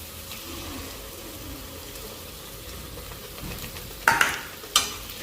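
A spice mixture with coriander and turmeric powders frying in a kadhai for egg curry, a constant soft sizzle, then several loud sharp scrapes and knocks of stirring near the end.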